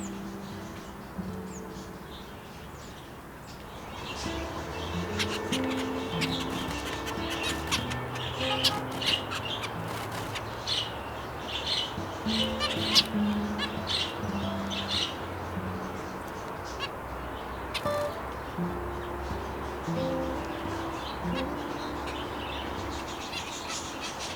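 Pet canaries in an aviary give scattered squawks and chirps over a steady low background hum, moderately near and fairly quiet, with no one talking.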